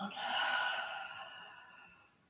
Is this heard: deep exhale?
yes